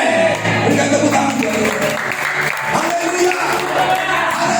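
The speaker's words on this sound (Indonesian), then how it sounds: "Berikan tepuk tangan." Church congregation applauding during a sermon, a loud, busy patter of clapping with scattered shouts and voices mixed in, continuing without a break.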